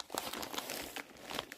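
A paper envelope being handled up close, giving off soft crinkling and rustling in short, uneven bursts with small crisp crackles and no speech over it.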